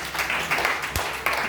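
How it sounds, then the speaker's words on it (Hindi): Audience clapping at a college campus singing competition in Bhagalpur, a brief burst of broad applause that swells and dips over a second and a half, with no voices over it. "Give a huge round of applause for Satvik sir"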